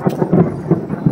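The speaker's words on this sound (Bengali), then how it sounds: "এর আকাশ ডাকছে" Low, rumbling thunder rolls in short heavy pulses, loud and close, with no voices.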